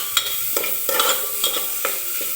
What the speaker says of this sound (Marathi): मी छान असा मसाला सुद्धा भाजून घेते